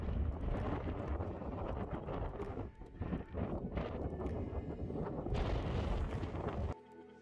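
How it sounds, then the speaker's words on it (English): Strong wind buffets the microphone on a Lake District fell summit, a loud, continuous rumbling roar that fills the whole stretch. "It's a lot windier up here."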